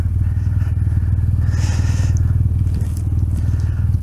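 A BMW motorcycle, a 1250 GS, rides off-road, its engine a loud, steady, close rumble with gravel crunching and scraping under the tyres throughout.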